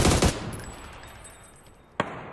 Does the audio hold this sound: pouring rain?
no